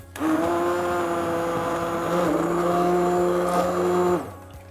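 A blender whirs loudly for about four seconds, blitzing cooked vegetable soup, its motor pitch shifting slightly as it blends, then cuts off abruptly.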